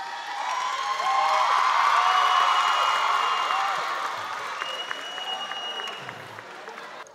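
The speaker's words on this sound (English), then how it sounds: "you have the crowd roaring and everything for you" A talent-show audience roars and applauds, a loud dense wash of clapping and cheering that swells and then slowly eases, with a few whoops over the top.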